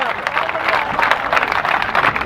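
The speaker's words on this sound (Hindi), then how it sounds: "तालियां बजाओ जरा एक बार जोरदार साहब" Audience at a speech bursts into loud, dense clapping and cheering, a short sustained wave of applause.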